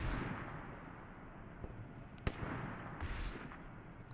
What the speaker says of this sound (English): Titan is shooting over here.